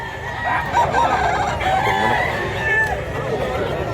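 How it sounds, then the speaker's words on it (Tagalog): Rooster at a poultry market in Mantalungon, Cebu, crowing and clucking nearby amid a busy crowd murmur, several drawn-out calls overlapping other birds. "Gwapong manok."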